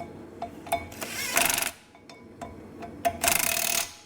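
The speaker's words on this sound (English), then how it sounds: "We'll go ahead and torque these on." A wrench torquing the wheel lug nuts on a Corvette: rapid ratcheting bursts and sharp metallic clicks, close and loud, repeating in two main runs with short clacks between.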